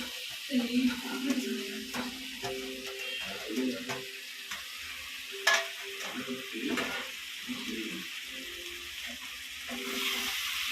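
Mushrooms sautéing in a pan with onion, tomato, ginger and garlic give a low, steady sizzle with scattered stirring scrapes and clinks, set against a soft background hum.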